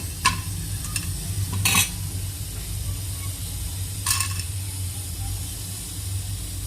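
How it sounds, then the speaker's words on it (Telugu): Chana dal and green chilies frying in a hot pan give a steady soft sizzle with a couple of brief bright hissing bursts as the mix is stirred, no talking. "ఈ పచ్చిశనగపప్పు బాగా అనేది ఫ్రై చేయాలి, ఎర్రగొచ్చేలా చేయాలి"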